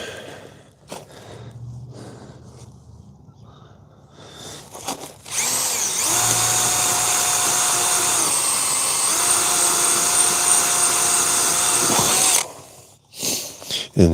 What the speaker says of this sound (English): just when I'm drilling the hole